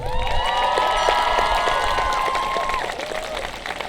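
An audience at a 2019 high school graduation ceremony applauds in a sustained, full round of clapping and cheering that fills the space and tapers slightly toward the end.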